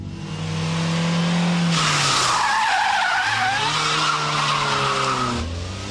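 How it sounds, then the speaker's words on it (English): Front-wheel-drive car doing a handbrake turn, rear wheels locking and sliding: loud sustained tyre skid and squeal over engine revving, the engine pitch dropping and then climbing again as it powers out. "yank the handbrake, the rear wheels will lock as the back end slides round"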